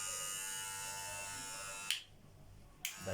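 A cordless electric hair clipper for home haircuts runs with a steady, close buzz for about two seconds, then drops away and briefly restarts near the end.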